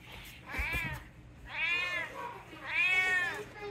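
Indoor cats meow in three drawn-out, rising-and-falling cries spaced about a second apart, fairly close and clear, with a faint voice briefly underneath.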